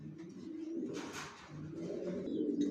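Young racer pigeons give a soft, low, continuous cooing that stays faint and steady throughout, with no talk.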